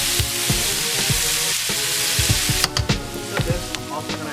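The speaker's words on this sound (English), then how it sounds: "Our Scotch bonnet and our garlic, all in here. And we gotta stir it and saute it to bring the flavor out." Scotch bonnet pepper and garlic sauté in a hot pan for Jamaican ackee and saltfish, a loud steady sizzle broken by repeated scraping stirs that turn sharper and more frequent toward the end.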